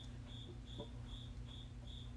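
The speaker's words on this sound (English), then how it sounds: "I cannot believe this cricket. This cricket is not happy about me making noise" A cricket chirps in a steady rhythm, five evenly spaced, shrill pulses close by, with a low hum underneath and no talking.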